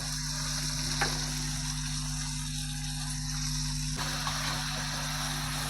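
Chopped tomato with turmeric and cumin powder sizzles steadily in a pan, a constant soft frying hiss with a faint click or two over a low electrical hum.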